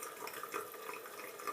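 Running water splashing into a bathroom sink, a steady close, moderately quiet wash of flow with small spattering bursts, no talking.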